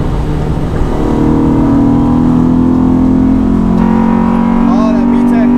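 Honda Civic EK hatchback race car with a VTEC engine, its revs climbing and holding in a loud, steady drone heard from inside the stripped cabin, with a brief vocal sound near the end.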